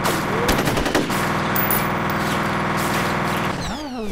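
Rapid automatic gunfire in the first-person shooter F.E.A.R., a sustained loud burst of fire with sharp shots at the start, fading into mechanical game sounds near the end.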